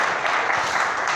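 Brief burst of audience applause at the close of a talk, a dense patter of clapping heard alone for just over a second.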